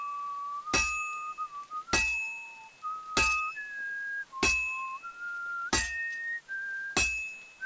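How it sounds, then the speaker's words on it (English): In the game Kingdom Come: Deliverance 2, a melodic whistled tune drifts up and down between six sharp, evenly spaced metallic hammer strikes that ring like clinking anvil blows while blacksmithing. "So now you can hear Henry whistling."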